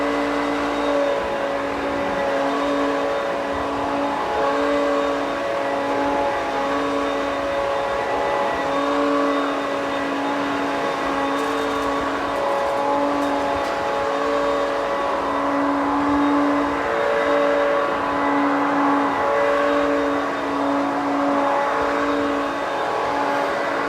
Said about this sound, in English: Turn the self-propelled transmission off just so nothing's engaged, and I will push this machine around a little bit